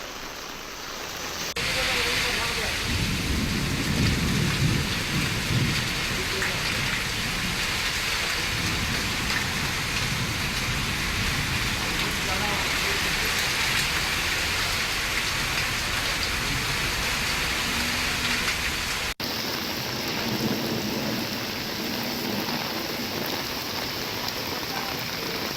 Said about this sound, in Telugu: ఓల్డ్ సిటీ ఏరియాల్లో కూడా భారీగా ఉరుములు మెరుపులతో వర్షం పడుతోంది